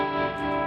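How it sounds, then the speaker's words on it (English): A sustained electric guitar chord rings out with a wavering, pulsing tremolo effect from a Quad Cortex on the tone, steady and fairly loud throughout. "my normal tremolo is this one"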